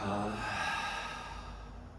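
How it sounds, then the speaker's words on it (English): One deep, drawn-out breath taken in during a floor stretching and foam rolling routine, close and clear, a soft airy rush lasting about two seconds. "Take a big giant breath in."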